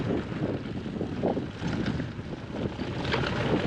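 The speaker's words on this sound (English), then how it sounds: "Definitely a wind section there." Wind gusts roar across a microphone on a mountain bike trail during a ride on a custom Carbon Wasp Truffle 120 build, a loud, continuous rushing buffet that swells and dips without a break, with no talking.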